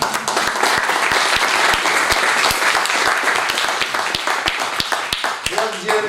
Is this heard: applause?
yes